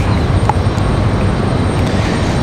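An American Airlines Airbus A320 departs Raleigh-Durham for Philadelphia, its engine roar a loud, steady broadband rumble heard from the ground with no voices.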